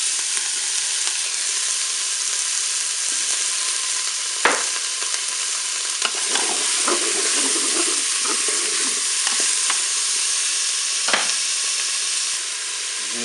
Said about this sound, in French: Je vais ajouter les pavés de thon que j'ai coupés en morceaux.